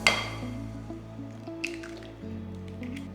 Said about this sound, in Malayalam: ഓരോ മുട്ട ഗ്രാജുവലി ആഡ് ചെയ്യുക.